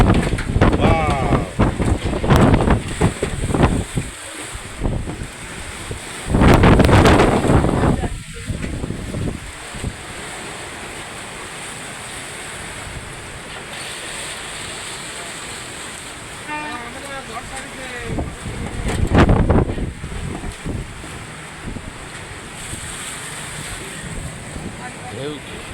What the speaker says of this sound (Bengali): বাতাসটা ওদিক থেকে আসতেছে, হ্যাঁ এই যে দাও ওদিকে ঢেউ একেবারে তুফানের মতো।